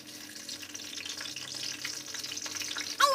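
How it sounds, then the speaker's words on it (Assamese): An egg fries in oil in a wok with a soft, continuous sizzle and light crackle, close and alone, growing slightly louder toward the end. "তো আপোনালোকে চাই থাকক, মই ডিমা ভাজিছোঁ"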